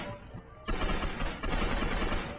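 Rapid SMG fire in the Gotham City Impostors video game: a sustained, dense burst of automatic shots starts abruptly and keeps rattling loudly, with a brief dip midway, over faint game background.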